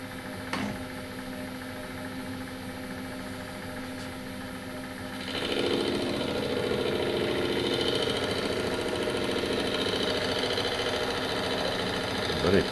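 Metal lathe taking a light skim cut off the back edge of a steel part, probably EN1A, with a steady motor hum that rises into a broader, louder cutting hiss about halfway through and holds to the end.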